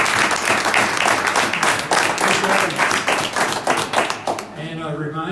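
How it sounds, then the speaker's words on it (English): An audience at a camera club print show applauds the three judges, a lively burst of many clapping hands with rhythmic patches, fading out as a voice starts speaking at the end. "Another big, huge round of applause for our 3 judges."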